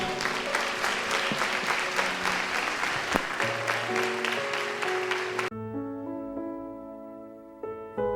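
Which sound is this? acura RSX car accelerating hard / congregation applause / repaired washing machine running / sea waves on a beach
congregation applause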